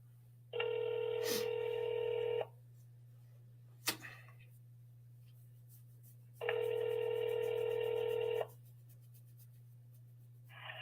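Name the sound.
telephone call dialing and ringing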